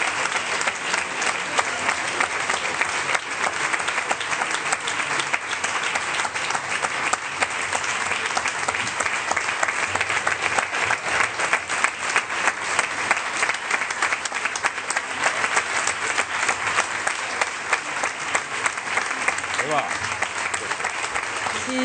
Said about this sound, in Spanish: Los ratifican por unanimidad y con aplausos.